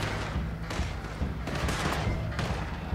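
A muffled explosion goes off in Red Dead Redemption 2, a dull rumbling boom followed by several heavy thuds and crackling bursts spread across a few seconds, with a voice speaking over the game audio.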